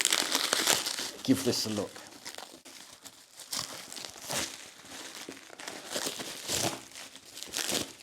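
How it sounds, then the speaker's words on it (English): Plastic outer packaging around a boxed Icefeather quilt crinkles and crunches as it is pulled open, in bursts of rustling and tearing close by, with someone talking over much of it. "So I'm just going to open up the outside packaging"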